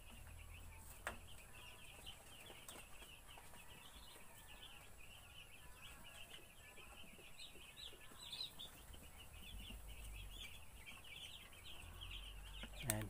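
Ten-day-old chicks peeping after being moved from a brooding area, forming a constant high chirping chorus that carries on without pause over a low background hum.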